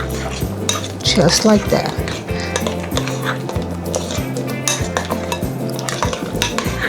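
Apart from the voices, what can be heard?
mixing ingredients in a bowl for rack of lamb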